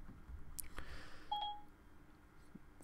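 A phone activation chime rings out as the phone mistakes a voice for its wake word, a short clean two-tone beep sounding once over a faint room hum, with a few soft knocks around it.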